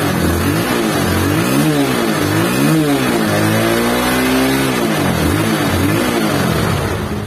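A Honda Beat scooter engine, just refilled with oil after running dry and seizing, revs up and down repeatedly at close range in rising and falling pulls.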